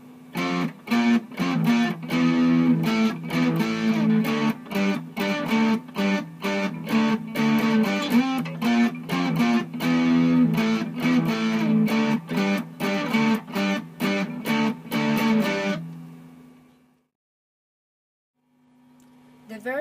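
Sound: distorted electric guitar intro of a song, power chords

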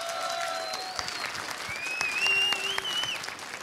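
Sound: crowd applause at CS:GO esports tournament

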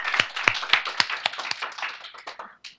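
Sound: audience applause

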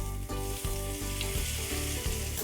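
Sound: hot oil poured into momo marinade, sizzling

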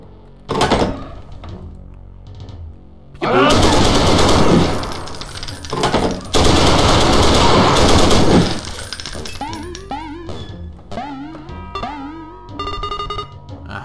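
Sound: MG42 machine gun firing in video game Wolfenstein

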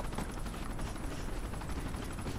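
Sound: helicopter in video game Ghost Recon: Future Soldier

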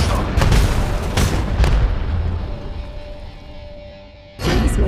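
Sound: frag grenade explosion in video game Apex Legends Mobile

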